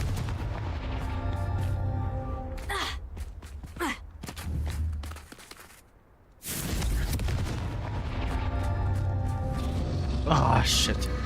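Confringo explosive spell bursts in the Hogwarts Legacy video game, loud booming blasts over a continuous game soundscape, with a brief drop to quiet midway before the noise returns.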